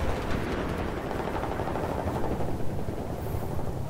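A steady, loud rumble of helicopter rotors in the video game Battlefield 4 fills the whole stretch, dense and continuous, with a brief sharp click near the end.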